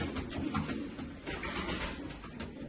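A young female double-crested pigeon cooing softly, a low steady murmuring coo heard close but faint, with no talk over it.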